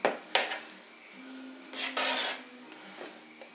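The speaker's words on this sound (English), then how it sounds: "I'm going to go ahead and cut it in half and save part of it for later." Pizza dough cut in half on a work surface with a scraper or knife: a few sharp scraping strokes and rubbing sounds against the counter, close and moderately loud, separated by brief pauses, with no speech.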